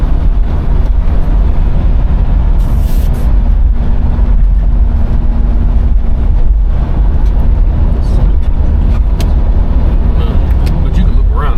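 A 1967 Pontiac Firebird driving along with a loud, constant low engine and road rumble heard from inside, with gear changes buried in the steady drone.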